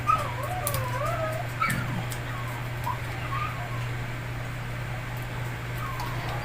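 Indoor dog whimpering with wavering high whines and a few short yips, under a constant low electric fan hum near a motor rewinding job, with soft ticks and a brief voice.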